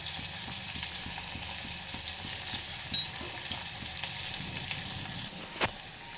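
Onions frying in oil with salt until golden brown, a steady crackling sizzle with light stirring taps and an occasional sharper pop, close and even in level.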